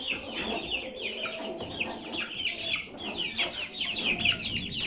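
Busy chatter of chicks with overlapping chirps and clucks, a dense, continuous flock sound at moderate volume throughout.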